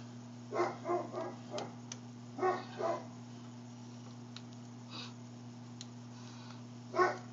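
Dogs bark indoors in a few short, scattered bursts, somewhat muffled and distant, over a steady low electrical hum.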